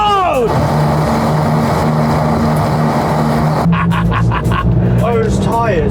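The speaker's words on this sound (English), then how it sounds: "Those tyres are so noisy." Loud, steady road roar from a cheap pickup truck's noisy tyres fills the cabin throughout, with people talking over it.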